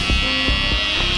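An electric hair clipper buzzes steadily and loud, close at hand while cutting a man's hair, with brief dips in the hum as it passes over the head.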